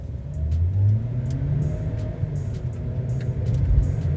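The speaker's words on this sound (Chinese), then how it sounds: "这个排气管的声音、" Proton X70 1.8-litre turbo SUV engine revving and pulling hard under acceleration, a steady close rumble with rising engine tone and exhaust note, no talking.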